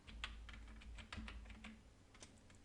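Computer keyboard typing as a password is entered to log into a server, a quick sequence of soft, close key clicks over a low hum, very quiet, with no talking.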